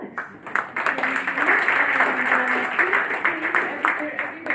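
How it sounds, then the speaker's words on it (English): An audience at a startup pitch event claps for the photographer, a sustained round of applause with a few sharper claps near the front, while voices murmur underneath. "Round of applause for our photographer, Alex."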